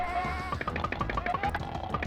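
Cartoonish goat bleats from the video game Super Noah's Ark 3D, a rapid string of short repeated bleating calls over game music, layered and overlapping at a quick steady rhythm.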